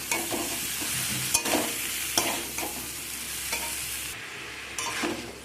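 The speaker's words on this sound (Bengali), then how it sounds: "মশলার সাথে ব্রকলি আর আলু সব কিছু একসাথে ভালো করে কষিয়ে নিতে হবে।" Broccoli and potato pieces stir-fried with spices in a pan: continuous sizzling broken by repeated scraping strokes of a spatula, close and loud, with no talking.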